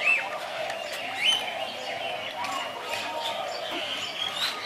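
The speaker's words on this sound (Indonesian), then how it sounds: "Namanya burung julang emas." Wreathed hornbills (julang emas) in a large aviary dome give calls that rise above a steady background of other birdsong, with several chirps spread across the stretch.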